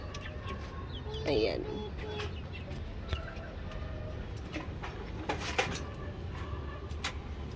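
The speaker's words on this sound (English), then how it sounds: "We have new chick. Ano, chickens?" Chickens cluck and coo faintly in a quiet rooftop garden, with scattered bird calls and a brief spoken word partway through.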